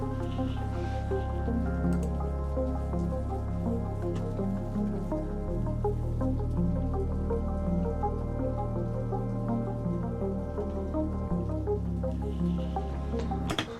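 Dark cinematic ambient synth from a Logic Pro template: a soft repeating pluck over low sustained drones that change pitch every few seconds, steady and moody with no voices.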